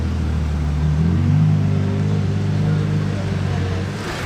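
A V12 supercar's engine drones low and steady on a Monaco street in summer, its rumble sustained and fairly close with a slight swell in pitch, while a voice talks over it.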